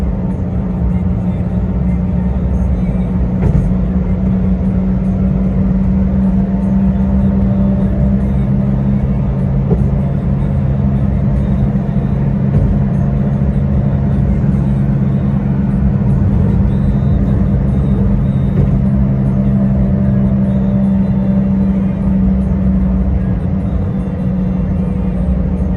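A car drives along a road at night with reduced speed in light traffic, a steady engine and road rumble filling the cabin throughout, close and constant with no voices.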